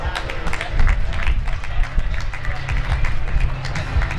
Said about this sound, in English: So let's have a round of applause for Bill Buckle.